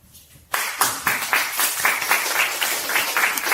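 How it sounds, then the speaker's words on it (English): An audience applauds at a technical presentation on low-level code, the clapping starting abruptly after a short quiet moment and continuing as a steady, dense roomful of hands. "Welcome them with an applause."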